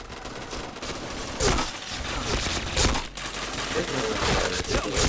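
Rapid bursts of gunfire in the shooter game PointBlank, several sharp cracking volleys in quick succession, loud and close over a busy game background.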